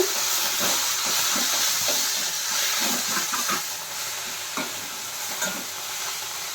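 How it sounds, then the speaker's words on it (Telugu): Ponnaganti leaves with red chillies cook down in a pan for chutney, giving a loud, steady hissing sizzle broken by a series of stirring scrapes and taps. No one speaks. "ఏగిపోయిందండి ఇంకా మగ్గిపోయింది బాగా"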